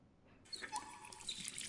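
Hot water pouring from a tap in a video game bathroom, switching on abruptly as a steady broadband rush with faint drips and trickles over it, close and moderately loud.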